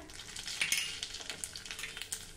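Cumin and mustard seeds sizzle in about 1.5 tablespoons of hot oil for a tempering, a close, crackly frying hiss dotted with small pops and light spattering.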